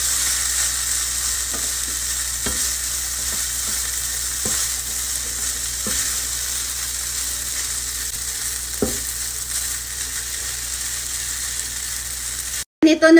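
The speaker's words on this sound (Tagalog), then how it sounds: "Halo-haloin hanggang mahalo lahat yung karni dito sa spaghetti." Meat sauce being stirred into spaghetti in a hot pan, steady sizzling with soft scraping strokes at irregular intervals, close by and continuous until an abrupt cut near the end.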